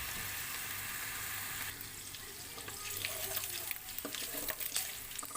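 Pork frying in oil in a pan until it browns, for ginataang kalabasa at sitaw, gives a steady close hiss and sizzle with faint scraping and crackling that grows a little busier toward the end.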